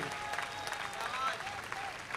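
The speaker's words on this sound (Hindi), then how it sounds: "आपकी तालियां कमजोर है मेरे भाई।" Scattered, fairly faint audience clapping at a Hindi comedy poetry recital, a thin continuous patter of hands with some sharper individual claps.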